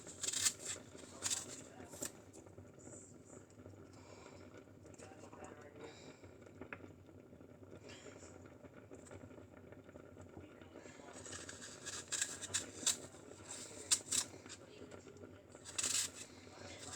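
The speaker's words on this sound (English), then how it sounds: "Then you take your peeler and you peel the apple like so." An apple being peeled with a vegetable peeler: soft, close scraping and rasping strokes in uneven bursts, faint and fairly quiet, with quiet handling noise between strokes.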